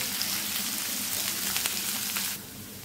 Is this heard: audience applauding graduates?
no